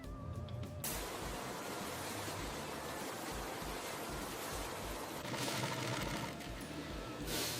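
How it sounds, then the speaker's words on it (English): A high-speed industrial sewing machine stitching blood pressure cuffs in a factory, a dense, steady whirring drone running continuously and loudly, with a brief change at the start. "the cuffs are sewn together by high-speed industrial machines"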